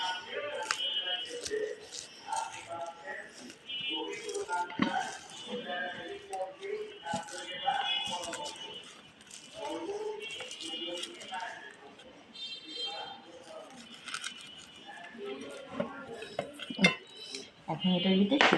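Chili and chopped onion being mashed and mixed by hand in a bowl with coriander leaves, giving steady squelching and scraping clatter against the dish through the whole stretch, with a voice talking over it.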